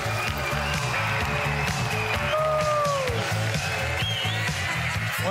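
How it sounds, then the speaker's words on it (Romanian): A television comedy show audience applauding a magician-comedian as he walks on stage, steady loud clapping with music playing underneath throughout. "să primim cu aplauze pe Andrei Crăciun!"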